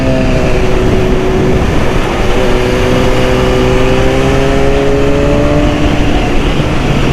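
A 2010 BMW S1000RR four-cylinder motorcycle engine revs loudly and steadily nearby, its pitch rising smoothly over a dense, continuous roar.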